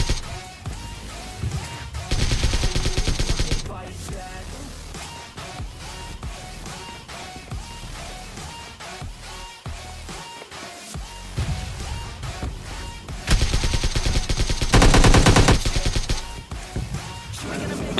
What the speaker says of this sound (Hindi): तभी एक बंदा फायर देता है